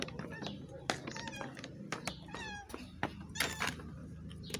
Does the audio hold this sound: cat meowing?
yes